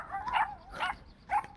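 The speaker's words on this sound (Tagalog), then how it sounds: "Kasi puro na aso nakikita ko. Baka kagatin nila ako." Dogs bark three times in a rural part of Dauis, Bohol, with short sharp yaps spaced about half a second apart, moderately close and alone without talk.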